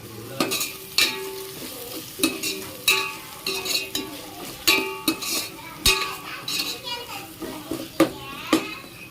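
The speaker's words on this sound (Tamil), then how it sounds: "இதையும் நல்லா வதக்கிக்கோங்க." Tomato, mint and coriander sauté in a pan for coconut milk rice, with sizzling and repeated sharp spoon scrapes and clinks against the metal, while children's voices chatter in the background.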